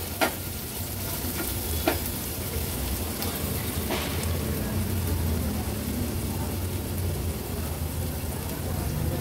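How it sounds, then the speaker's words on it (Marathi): Onion and crushed ginger-garlic paste sauté in a pan for a Maharashtrian veg thali, giving a steady sizzle and frying hiss with occasional utensil scrapes and clicks as the mix is stirred. A voice talks softly over it. "अगदी अर्धा चमचा आलं लसूण क्रश आहे, तो देखील आपण परतून घेऊया।"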